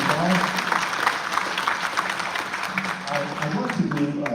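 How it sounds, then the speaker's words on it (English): Audience at a governor's town hall meeting applauding Ben and his team, a round of clapping that tapers off as a voice starts speaking over it. "Let's give Ben and his team a round of applause."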